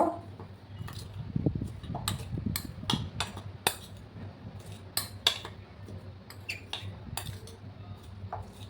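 Chopped green chillies and onion mixed in a bowl with a spoon, repeated sharp metallic clinks and scrapes at an uneven pace over a low steady hum.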